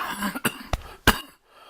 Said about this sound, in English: I'll try to get a video in between coughing fits